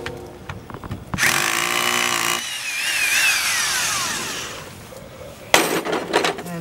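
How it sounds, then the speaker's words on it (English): Power drill boring through a concrete block wall for a dryer vent, a loud grinding whine in two sustained runs with short gaps and a few knocks, close by. "I'm just going to drill right through it."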